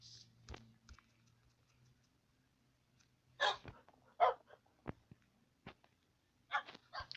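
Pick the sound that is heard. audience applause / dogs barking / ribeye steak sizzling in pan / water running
dogs barking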